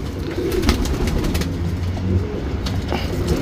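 A pigeon cooing softly nearby, low repeated coos over a steady background hum with a few faint chirps, no talk.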